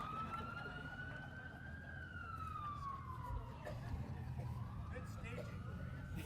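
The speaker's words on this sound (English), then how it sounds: "We'll let the ambulance go by." An ambulance siren passes at an outdoor flag raising ceremony, a sustained wailing tone sweeping up and down over a continuous roar of traffic and crowd noise, moderately distant.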